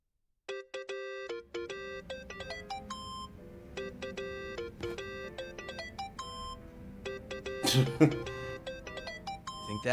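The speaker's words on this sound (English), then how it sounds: "Think that's your phone, man." Phone ringtone in Yakuza: Like A Dragon, a repeating electronic melody of clear tonal bleeps in rhythmic bursts, with a cough or throat clearing breaking in partway through.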